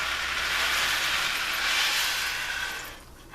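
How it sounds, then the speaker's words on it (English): Dry macaroni from a boxed macaroni and cheese poured into a pot of boiling water, a steady rushing hiss and bubbling roar that holds for a few seconds and then dies down. "macaroni and cheese being dumped into a pot of boiling water"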